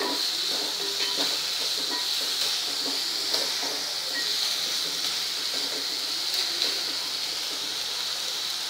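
Chopped onion sautés in a pan for Maharashtrian bhendi bhaji, giving a steady, even hiss of sizzling oil that runs throughout with faint clinks and no talk.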